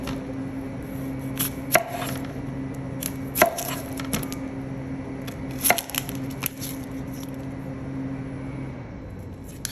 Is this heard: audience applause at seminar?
no